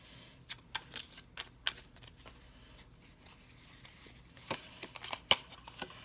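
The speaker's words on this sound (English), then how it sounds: "I'm going to grab a Witch Casket empowerment card here for this" Witch Casket empowerment cards being handled and shuffled for a tarot-style reading, giving soft papery riffles and sharp flicks in irregular bursts, close and quiet with no talking.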